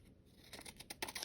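Scissors trimming paper for a junk journal, a brief run of soft crisp snips close to the microphone, about four quick cuts, quiet and without talk.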